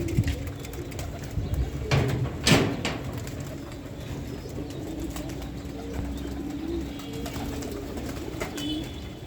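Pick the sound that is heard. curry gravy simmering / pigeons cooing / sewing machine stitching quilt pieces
pigeons cooing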